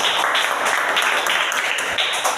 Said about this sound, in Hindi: किशन के लिए भी एक जोरदार ताली।